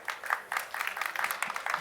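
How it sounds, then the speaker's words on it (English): Audience applause for jury members at a university startup competition, a soft patter of many hands clapping that carries steadily at moderate distance. "So give a round of applause to our jury members also."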